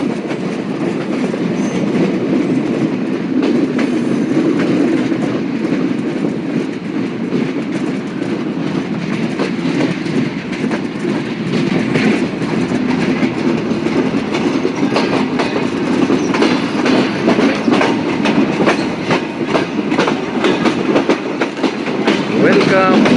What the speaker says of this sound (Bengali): আমাদের ট্রেনের লোকোমোটিভটি অলরেডি চুয়াডাঙ্গা রেলওয়ে স্টেশনের প্ল্যাটফর্মে অতিক্রম করেছে